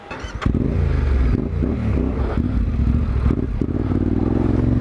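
Yamaha Ténéré 700 motorcycle engine running steadily while being ridden, a loud continuous mid-pitched drone with clattering mechanical texture and slight rises in revs throughout.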